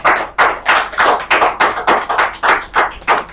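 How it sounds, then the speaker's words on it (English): Small audience at a frontend project showcase claps for the project team in a steady, evenly spaced rhythm of sharp, close handclaps, about three per second, with no talk over it. "Please help me give them a round of applause again."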